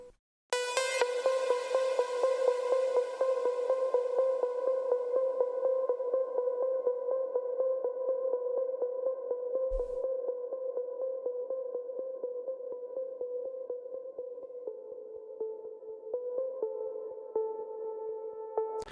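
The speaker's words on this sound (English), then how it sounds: "So it sounds like this when the drop hits." A bright synth pluck plays as a background element in an EDM drop, repeating in a fast, even pattern on a sustained pitch for nearly twenty seconds, with a short break near the middle and a small pitch change toward the end.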